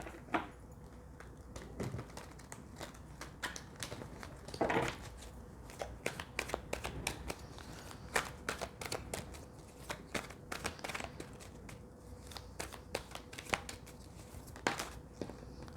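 Tarot cards are shuffled by hand again and again, a run of crisp riffling slaps and flicks at close range, quiet and steady with no talk.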